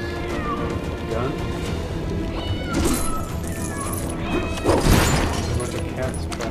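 Cats meow repeatedly in Lego Marvel Super Heroes 2, with several overlapping mewing cries mixed into dense game noise and crashing effects, while people talk over them throughout.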